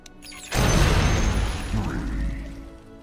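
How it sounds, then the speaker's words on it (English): Techies mines exploding in the video game Dota 2: a sudden loud boom that erupts after a brief quiet and rumbles on with crackling debris, heavy low end fading over a few seconds. "Explosions! Explosions!"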